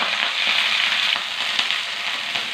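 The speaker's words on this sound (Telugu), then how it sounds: "తమలపాకులు కాడ వేపుకుందామండి నూనెలో" Betel leaf stems frying in hot oil for a tomato chutney crackle and sizzle loudly and continuously, with small pops scattered through, close up and with no talk.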